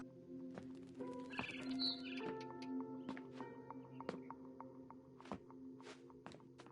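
A barn swallow chirps outside a bedroom window in a video game, with scattered short high tweets over a steady low hum and faint soft thumps.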